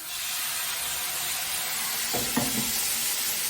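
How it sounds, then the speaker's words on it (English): A pan of mushrooms deglazed with white wine gives off a steady, loud sizzle and hiss throughout. A couple of brief utensil knocks come near the end. "I'm just going to deglaze the pan with a little bit of white wine"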